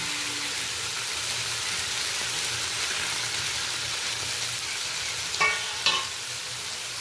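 Vegetable peels sizzle and crackle steadily in hot oil in a wok with nigella seeds, with a couple of brief scraping stirs near the end.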